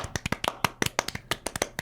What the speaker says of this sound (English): I'm gonna applaud it right now